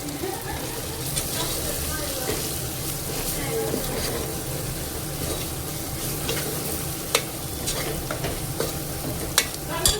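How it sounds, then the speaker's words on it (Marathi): Turmeric, coriander powder and garam masala are stirred into sizzling oil in a pan for a vegetable pulao. A continuous frying hiss runs under scraping spoon strokes, with occasional sharp metallic clicks toward the end. "हळद, धना पावडर, गरम मसाला ॲड करते आणि ह्याला छान मिक्स करून घ्यायचं एकदा."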